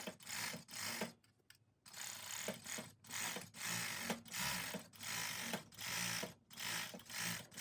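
Serger overlocking the fabric edge of a hoodie, a steady rapid mechanical chatter running in bursts with brief pauses between passes, close and fairly loud.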